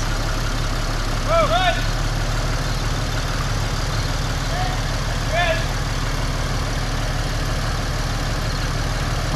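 A 1985 corn sheller engine runs at a steady low idle-like rumble with a constant drone throughout, while faint whistles or squeals sound briefly in the background.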